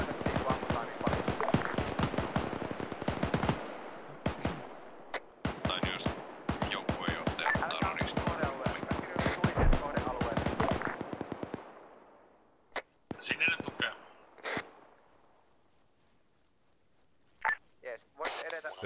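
Machine gun fire at a military exercise, dense rattling bursts for about twelve seconds, then silence broken by a few isolated sharp shots and short spurts, with voices talking over it.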